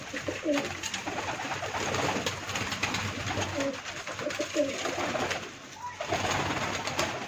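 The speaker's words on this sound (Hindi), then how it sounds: "माशाल्लाह कबूतर पी रहे हैं। ये परवाजी कबूतर हैं मेरे सारे।" Pigeons coo softly and repeatedly close by while drinking, their murmuring calls overlapping against a rustling, busy background.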